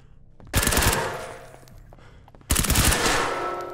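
Two loud, close bursts of rapid automatic gunfire from the tactical shooter video game Ground Branch, each sharp onset trailing off into echoing decay.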